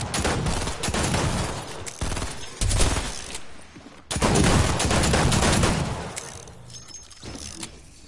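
Rapid bursts of gunfire in Fortnite, loud and close, with a dense volley that cuts out abruptly before a second sustained barrage, and no talk over it.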